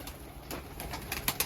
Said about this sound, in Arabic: طير كلها برا